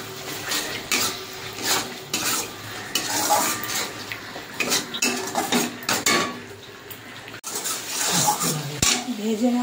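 A spoon scrapes and clatters against a pan as spice masala with grated tomato and Kashmiri chilli powder is stirred and fried for a fish and potato curry, with steady metallic scraping and a light sizzle throughout.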